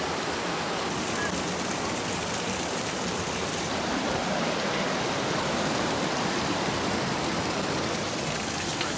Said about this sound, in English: The river is pretty.